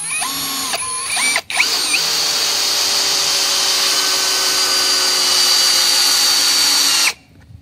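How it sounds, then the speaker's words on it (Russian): A LUDYVI BL150 cordless drill in screwdriver mode at maximum torque drives a screw, starting with brief whirs and a pause before a loud, steady whine that runs for about five seconds and then stops abruptly. "Так, будем заворачивать в режиме шуруповерта. И усилие максимально."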